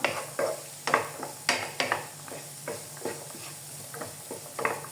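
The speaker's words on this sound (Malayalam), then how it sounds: "ഇത്രയും അത് നമുക്കൊന്ന് വഴറ്റി കൊടുക്കാം" Samosa filling with chicken masala is sautéed in a pan, a series of sharp stirring scrapes about every half second over a soft sizzle, close, with no talk.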